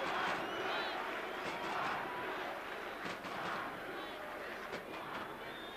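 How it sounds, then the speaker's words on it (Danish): A large crowd of spectators cheers and roars steadily in support at a Brøndby football match, a dense, continuous wash of voices with swells of louder shouting, heard at a distance throughout. "Dejlig, opmuntrende støtte fra tilskuerne"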